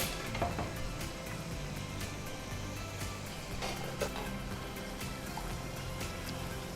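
Spices frying and bubbling in a covered pan for suvarna gadde (elephant yam) tambuli, a soft, steady crackling sizzle with light clinks of utensils, fairly quiet and unbroken.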